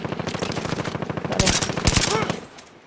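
Rapid automatic gunfire rattles steadily in a military video game shooter, heavier bursts cutting in toward the end before fading, with a voice talking faintly underneath.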